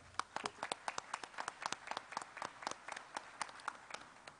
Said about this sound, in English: let's applaud again to Dr. Adamov.